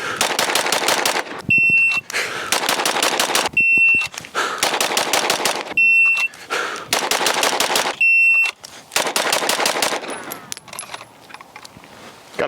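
Rapid pistol shots during a bill drill at a shooting range: four quick strings of fast, loud, close gunfire separated by short pauses, each followed by a bright timer beep, with no talk.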